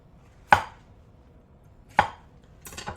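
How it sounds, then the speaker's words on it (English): A kitchen knife cutting around the core and stem of a bell pepper on a board: two sharp, clean knocks about a second and a half apart, then a softer cluster of cuts, in a quiet room. "And then I'm going to cut around the core, the stem."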